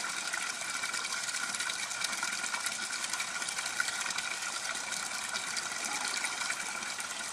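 Water gushes steadily from an aquaponics bell siphon draining a flood-and-drain grow bed, a constant close rushing flow with no pauses throughout.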